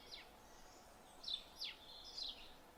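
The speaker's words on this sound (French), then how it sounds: "les petits oiseaux qui chantent" Small birds chirp outdoors in a mild, quiet setting, giving a few short, high, faint calls spaced across a few seconds.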